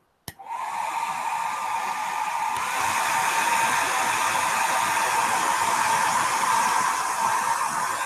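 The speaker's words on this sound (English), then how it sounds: "use a good old hairdryer." A hair dryer switches on after a click and blows steadily and loudly, a constant whooshing hum that runs on without pause.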